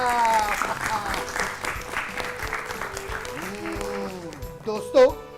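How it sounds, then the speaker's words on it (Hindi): A studio audience on a children's quiz programme bursts into applause after a correct answer, the clapping mixed with voices and ending in a short, loud tone. "हो जाए एक बार फिर से जोरदार तालियां।"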